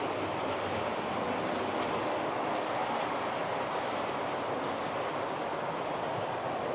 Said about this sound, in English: the most expensive loco I've got is that Bachmann Sound 37 that's going around